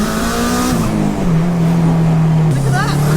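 A fast car roars past nearby during a street race against a supercar, its engine note rising then dropping as it goes by, loud throughout with tire and road noise.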